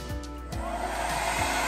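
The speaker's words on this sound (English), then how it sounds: "It just sounds like an air dryer." A Remington blow dry brush runs with a steady airy whirr like a hair dryer, close and continuous, following a few brief clicks or bumps at the start.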